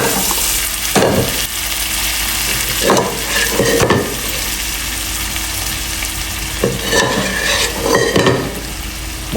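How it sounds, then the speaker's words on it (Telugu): Mashed toor dal going into a hot pan with seasoning and being stirred, loud sizzling and frying broken by several bursts of spoon scraping and stirring against the pan. "ముద్దపప్పు వేసుకుంటున్నాం."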